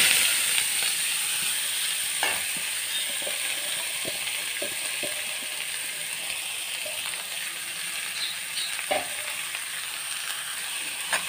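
Cleaned bean leaves frying in coconut oil with popped mustard seeds, a steady loud sizzle broken by occasional stirring clicks and scrapes, close up with no talking.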